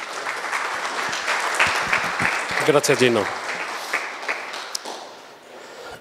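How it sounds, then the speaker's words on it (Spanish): An audience applauds a speaker at an agricultural advisory seminar, steady dense clapping filling the room, with someone briefly speaking over it midway. "Un aplauso para Emigdio."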